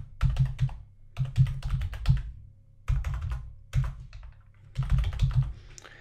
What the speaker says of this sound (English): So now I can type my bit of content.